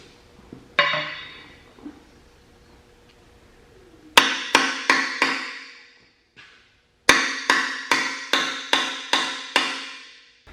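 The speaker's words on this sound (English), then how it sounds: "I'll grab a bigger hammer." A larger hammer drives a locating pin into a wood splitter's hydraulic cylinder mount: one early strike, then two quick bursts of sharp metallic blows, four and then seven evenly spaced, each ringing briefly.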